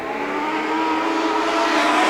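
Legend cars racing at a short track after the green flag, a loud continuous engine roar of several cars revving together without a break.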